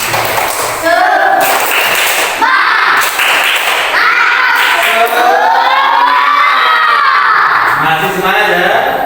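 A classroom group does a rhythmic spirit clap, loud close-up clapping with children shouting and chanting together over it, voices rising and falling across the whole stretch.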